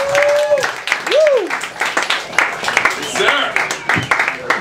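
Crowd applause and cheering after a comedy set at an open mic night, a continuous wash of clapping with whoops, heard close and loud beneath a host talking over it.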